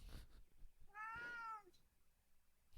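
A real cat gives a single clear, close meow lasting about half a second, in a quiet room with faint background noise.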